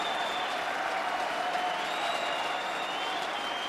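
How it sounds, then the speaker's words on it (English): At a Grand Finals men's singles table tennis match between Koki Niwa and Dimitrij Ovtcharov, a crowd applauds and cheers loudly, a thick, continuous roar of clapping that holds steady throughout. "Man, the crowd is going crazy."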